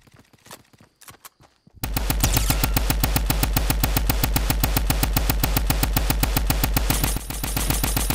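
A drum gun in Fortnite opens up after a quiet start of faint scattered noises, then fires one long, loud, rapid automatic burst of evenly spaced shots that runs right to the end.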